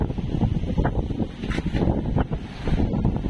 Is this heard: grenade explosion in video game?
no